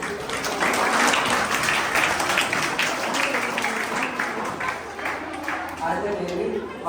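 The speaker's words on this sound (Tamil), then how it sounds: "கைதட்டு." Applause from an audience at an event: dense, steady clapping rolls on throughout, loud and close, with no break or fade.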